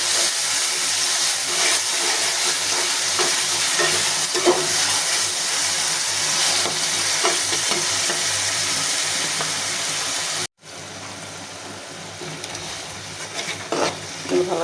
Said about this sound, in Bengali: ভালো করে ভেজে একটু পানি দিয়ে দিচ্ছি।